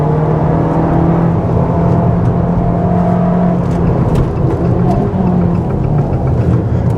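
Abarth 695 Competizione 2023, 180 hp with a limited-slip differential, engine held at full throttle, a loud, constant, droning roar that stays flat without climbing in pitch, heard close up from inside the car.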